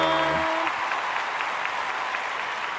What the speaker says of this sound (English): That applause is probably a little longer than it needs to be